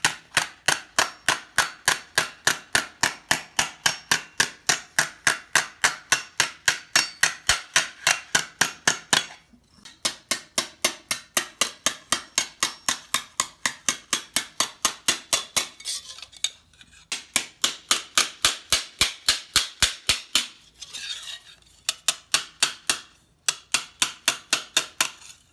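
A hammer strikes a steel armet helmet over the edge of an anvil in fast, even metallic blows. The loud, ringing hits come close up in long runs, broken by a few short pauses.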